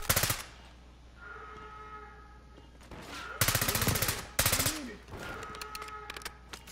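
Bursts of automatic gunfire from Call of Duty Black Ops 6, with rapid volleys at the start, two loud sustained bursts near the middle and a shorter burst at the end, separated by quieter game ambience.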